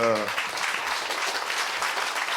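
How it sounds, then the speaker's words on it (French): A live audience at a talk on galactic animals breaks into steady, dense applause that fills the room right after a speaker's voice trails off at the start. "je pense que vous pouvez vraiment l'applaudir"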